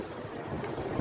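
Wind blowing outdoors near a mall in Central Hong Kong on a cold Sunday, rumbling across the microphone in steady low gusts that swell slightly toward the end.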